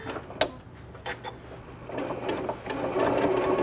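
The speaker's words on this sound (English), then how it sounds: "So I'm just gonna drop a straight stitch" A sewing machine runs a straight top stitch with a ditch foot on a garden apron, a steady close mechanical whir and rapid needle patter that speeds up toward the end.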